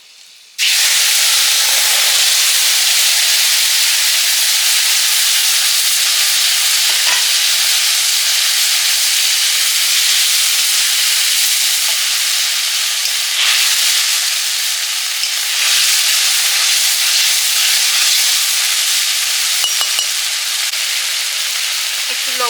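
Spice paste of ground cumin, coriander, radhuni, turmeric and chili, with bay leaf and dried red chili, frying in hot oil in a pan, giving a loud, steady sizzle and hiss that carries on without a break for the whole stretch.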